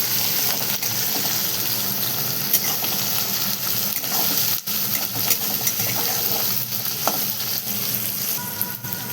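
Tomatoes, onion and green chillies sizzle and fry steadily in a hot pan, a dense crackling hiss with occasional stirring scrapes, close and continuous with no talking.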